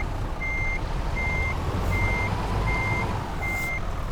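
Truck reversing alarm in Euro Truck Simulator 2 beeps five times at an even pace over a loud, steady diesel engine rumble.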